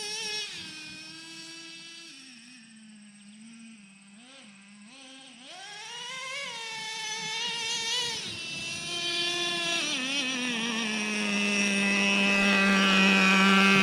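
A Traxxas Revo 3.3 nitro RC truck engine, freshly tuned after break-in, runs with a steady high-pitched whine that dips, then rises and climbs steadily louder through throttle blips.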